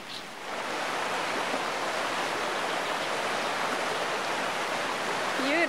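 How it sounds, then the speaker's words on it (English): River rapids at Enonkoski rush in a steady, broadband roar that holds constant for several seconds, close and enveloping, with no talk over it. "the water is flowing here in the rapid."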